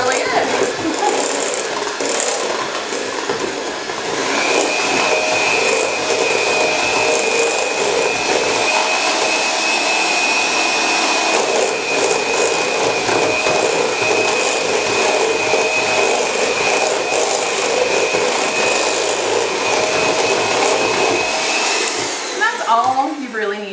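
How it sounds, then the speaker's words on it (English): A hand mixer with a single beater creams packed sugar for pumpkin empanadas, a steady close whirring drone that runs on without a break, with faint talk at times. "me and my little one beater are going to go ahead and cream this"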